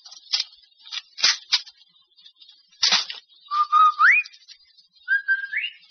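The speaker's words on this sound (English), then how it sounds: "The Rinso whistle is our way of telling the children we're home from work." A two-note rising human whistle used as a family signal that a parent is home from work, heard twice after some brief scattered clicks and rustles, fairly close and clear with no talking.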